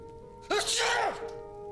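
A single loud sneeze erupts partway through, a sharp burst that trails off after about half a second, over a steady low hum of room tone.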